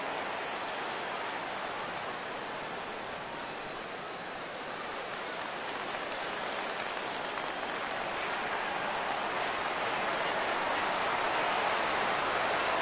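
A baseball stadium crowd at an Astros at Indians game rising to cheer a full 3-2 count, a broad sustained roar that swells gradually louder over several seconds.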